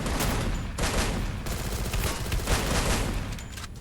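Rapid bursts of automatic gunfire in the Free Fire battle-royale shooter, several dense volleys separated by brief gaps, loud and close with no talk over them.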